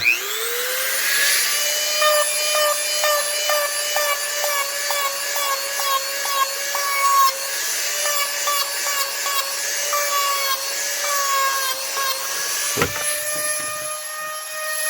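A high-pitched rotary cutting tool whines steadily while trimming Kydex sheet for an outside-the-waistband holster, loud and close, its pitch wavering slightly as it bites, then cutting off abruptly near the end; no speech.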